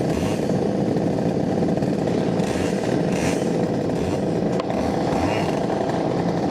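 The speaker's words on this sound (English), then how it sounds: "The engine's loud" A racing car engine runs loudly and continuously at close range during a season-finale race, a harsh, buzzing drone with slight shifts in pitch and no clear voices over it.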